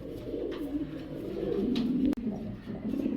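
Romanian Beauty pigeons, a pair, cooing softly in a low, continuous murmur close by, with a brief sharp click partway through and no talking.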